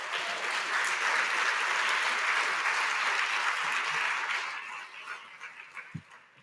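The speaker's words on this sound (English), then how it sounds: "Please give them a round of applause." An audience at an academic conference hall claps in a sustained round of applause, dense and steady for several seconds before thinning into scattered final claps.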